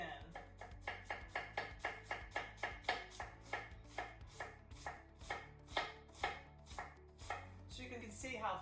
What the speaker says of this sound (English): So you can see how thin I am cutting the cabbage.